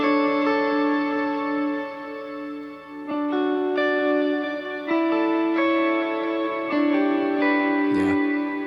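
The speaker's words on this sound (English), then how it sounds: "It's kind of like almost like playing really delicately and letting the delay and the reverb kind of carry it." An electric guitar is played softly with clean chorus, delay and reverb, sustained chords ringing and blending into one another, with gentle changes every couple of seconds, close and full with no talking.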